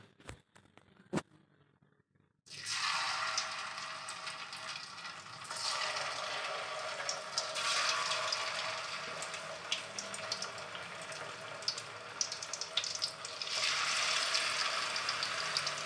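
Banana flower 65 pieces dropped into hot oil set off a loud, steady frying hiss that lasts throughout, swelling in intensity as more pieces go in, after a brief quiet start.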